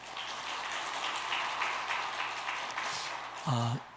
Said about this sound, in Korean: 그런 마음으로 박수 한번 드리겠습니다